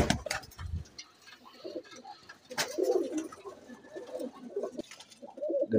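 Pigeons coo repeatedly in a loft in Lahore, soft throaty calls overlapping at close range, with a few scuffs and flaps between them.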